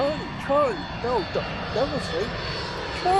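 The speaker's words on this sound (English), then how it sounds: "Oh, wait, that's a plane" A low-flying airplane engine drones steadily beneath loud, excited talk in a video game, holding constant throughout as the voices overlap it.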